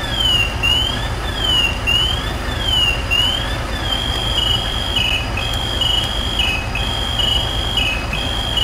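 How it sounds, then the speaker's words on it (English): A firefighter's PASS alarm sounds loud and continuous, warbling and pulsing in a high pitch, steady and insistent over a dense background rumble. "And there goes his pass alarm."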